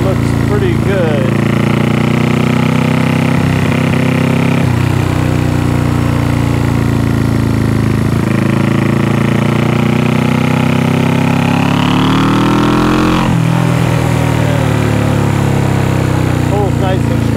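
A 1974 Honda CB360 motorcycle engine runs just after its first start with a rough, loud, steady drone that rises and dips as the throttle changes, with an occasional pop and no talk over it.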